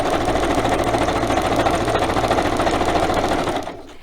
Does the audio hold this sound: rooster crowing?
no